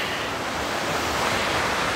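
Ocean waves wash up on a beach in a steady, loud broadband roar with wind buffeting the microphone, continuous throughout and without talk.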